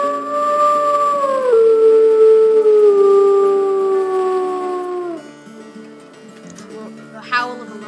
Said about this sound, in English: The howl of a lonely mother wolf.